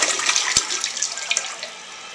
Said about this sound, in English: The toilet still doesn't flush correctly